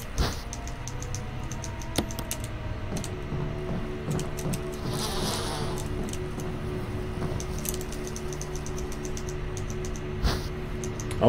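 Bees buzzing in the Resident Evil video game, a faint, wavering drone under steady game background noise and scattered small clicks.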